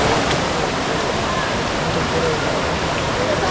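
A fast-flowing river near Kathirkamam (Kataragama) rushes in a loud, constant wash of water with no pause, and voices are faintly present beneath it.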